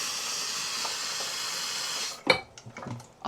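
An electric kettle heating water gives a steady, soft steam hiss for about two seconds, then cuts off with a click, followed by faint clunks and rustles nearby.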